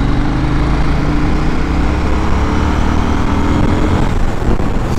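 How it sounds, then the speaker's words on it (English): A loud, steady engine drone with a deep, throbbing low-end rumble from a KTM Duke 790 twin-cylinder motorcycle exhaust, continuous and close throughout, idling or revving gently. "Listen to this exhaust."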